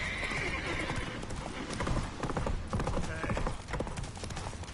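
Roach, Geralt's horse in The Witcher 3 on PS5, gallops with steady loud hoofbeats and neighs over game music and effects, with no talk.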